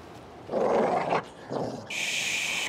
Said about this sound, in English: Is that a dog?